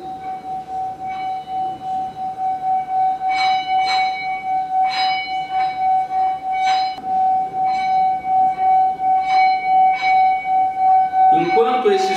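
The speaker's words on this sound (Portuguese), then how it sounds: "Pegue um pedaço de pau de vassoura e passe na beira do sino." A sustained ringing tone hums from a bowl-like bell as its rim is rubbed with a wooden broomstick, pulsing steadily, with faint clinks and a brief rustle at the end.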